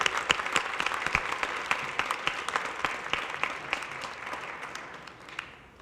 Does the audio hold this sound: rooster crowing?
no